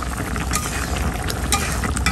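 Cumin and ginger paste stirred and frying in a pan, a steady close sizzle with scraping stir strokes breaking through every half second or so, continuous for a couple of seconds with no voices.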